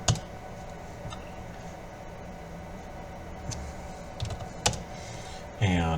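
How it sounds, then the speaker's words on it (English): Keys tapped on a computer keyboard while entering a command, sparse irregular clicks over a steady background hiss, close but quiet, with a louder clatter near the end. "You can also just type T1 at the command prompt."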